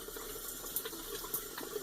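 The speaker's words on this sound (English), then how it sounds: "So I'm going to just run it under water" Tap water runs steadily into a sink while a shave soap brush is wetted under it, a soft continuous splashing with a few brief spatters, heard alone and fairly quiet.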